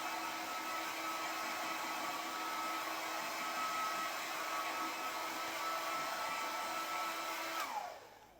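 A hair dryer blows steadily and close to dry poster paint on a children's painting, a continuous loud whir lasting several seconds before switching off at the end.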